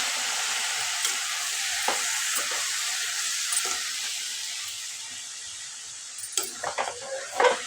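Chopped drumsticks and tomatoes tumble into a hot, sizzling pan for a Telugu drumstick-tomato curry, with a steady close frying hiss broken by a few soft clinks and stirring clatters that grow busier near the end.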